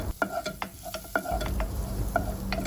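Ginger, garlic and crushed cardamom roast in a pan for a moong dal curry, a steady sizzle broken by sharp scraping stirs and spoon knocks close up, with no voices.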